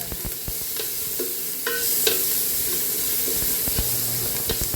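Tomatoes hit a hot frying pan with a continuous bright sizzle, broken by scattered clicks and scrapes from stirring.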